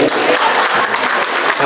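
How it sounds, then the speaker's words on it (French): A gala crowd claps loudly and continuously in a short burst of applause, with voices mixed into the noise. "est-ce qu'on peut les applaudir, s'il vous plaît?"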